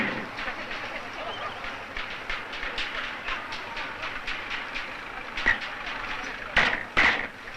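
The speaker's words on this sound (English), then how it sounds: "These trains are called petroleum dragons." Oil tanker trains rolling on rails at an oilfield, a steady rumble with rhythmic clickety-clack of wheels over rail joints and a few louder clanks near the end, heard faintly under a voice.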